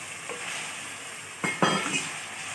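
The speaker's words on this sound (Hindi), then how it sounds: "मसाले के साथ चिकन को अच्छी तरीके से भून लेंगे।" Chicken fries with spices in a pan, a soft steady sizzle with a couple of brief louder bursts of stirring and scraping partway through, close and moderately quiet.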